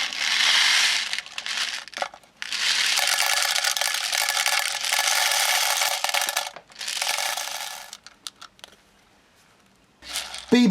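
ASG airsoft BBs pour and rattle into a CYMA CM028A magazine, a close, bright clattering stream in several long spells separated by pauses, ending with a few faint clicks and a sharper knock.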